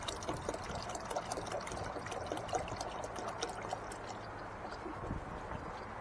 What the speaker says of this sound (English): Start filling up with coolant.